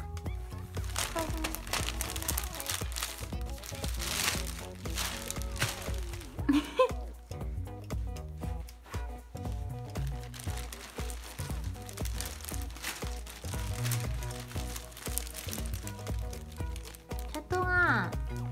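Plastic bag crinkles and rustles on and off as a Korean shorthair kitten shifts around in it, while a person talks softly nearby.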